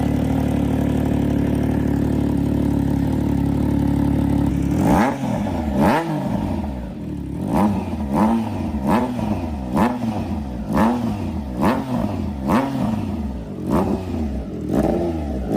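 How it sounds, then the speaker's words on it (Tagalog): A 3-cylinder neo-retro big bike idles with a steady low drone, then revs up in a series of sharp, repeated throttle blips, each rising and falling, loud and close with no talk over it. "Nga 3-cylinder siya. So nandun yung pagka-macho ng tunog niya talaga eh."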